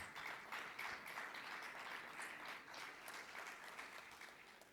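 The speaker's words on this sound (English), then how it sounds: "Let's give him a round of applause." An audience at a Caribbean tourism conference session applauds a minister, a steady, even spread of many hands clapping that carries on for the whole stretch, fairly distant and soft.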